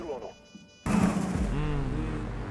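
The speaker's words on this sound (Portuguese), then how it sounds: "Eu vi da onde veio esse tiro." Gunfire in the video game Rainbow Six Siege: a sudden loud burst of shots rings out after a quiet moment and keeps reverberating, with a voice talking under the action.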